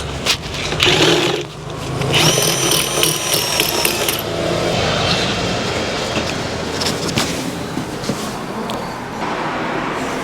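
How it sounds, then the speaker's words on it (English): A power drill bores at an angle into a wall to pass cables through, with rattling, uneven grinding and bursts of drilling that start and stop, close by, with brief voices in the background. "God knows what I'm drilling into."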